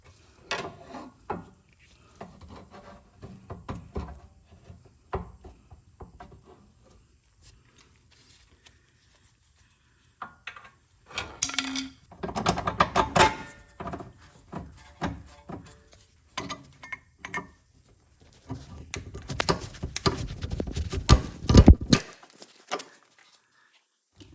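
Someone works a pry bar against a rear lower control arm on a 1993 Integra, making irregular metallic clunks, scrapes and creaks in bursts. The sounds grow louder and denser toward the end, with quiet gaps between them.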